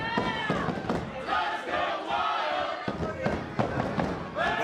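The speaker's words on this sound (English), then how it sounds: "The fans cheering on Wilde here." Wrestling fans at the Rumble in the Dot 2021 show cheer and shout continuously through a Taylor Rising versus Taylor Wilde match, a dense roar of crowd noise with bursts and yells mixed with commentary voices.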